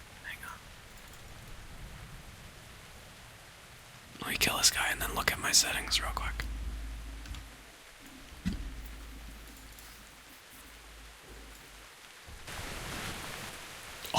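Steady rain ambience in World of Warcraft's Siren Isle zone, a soft continuous hiss beneath close whispered talk, with a louder burst of game effects partway through.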